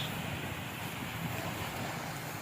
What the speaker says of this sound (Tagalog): nakakatakot naman ang alon. Sobrang laki.